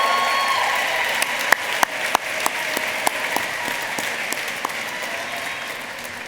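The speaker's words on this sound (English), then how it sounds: "we certainly want to send a special round of applause to Dama Santana" Steady applause from a gala audience celebrating 150 years, a dense even patter with a few sharper claps standing out, continuing without speech.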